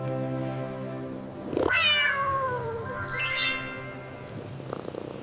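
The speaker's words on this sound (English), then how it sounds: "It's a cat." A cat gives a drawn-out meow that rises and falls, followed by a second shorter meow, close and clear over a low steady hum with no talking.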